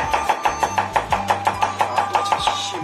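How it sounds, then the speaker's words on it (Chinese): A kitchen knife finely minces smashed round garlic on a cutting board, giving a steady run of quick, crisp chops, roughly four or five per second, close and clear with no talking. "剁成细末"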